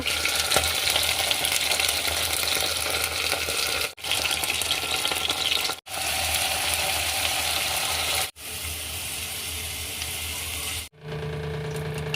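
Oil sizzles and fries in a pan while a rice dish with potatoes, onions, peas, soya chunks and cumin is cooked, a continuous loud crackling hiss broken by a few brief cuts.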